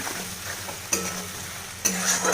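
Tomatoes cook down in a pan for a chana dal and potato dish, a soft constant sizzle broken by two sharp spoon scrapes against the metal as they are stirred, close up.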